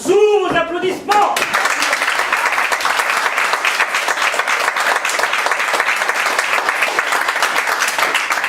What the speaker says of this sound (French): Patrick, mesdames et messieurs, sous vos applaudissements